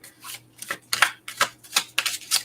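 A deck of oracle cards is shuffled by hand in repeated quick riffling bursts, about eight close, crisp rustling strokes in a steady rhythm with brief gaps between them and no talking.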